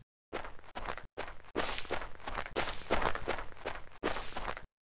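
Game footstep effects from the fantasy RPG Arcan Chronicles play alone: a string of close, crunchy steps in uneven groups, split by short silent pauses.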